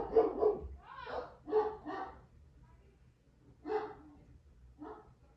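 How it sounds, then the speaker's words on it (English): Dogs bark from a little way off in several separate bursts, some doubled, with gaps of quiet between them and no talk over them. "The dogs were just going crazy right there"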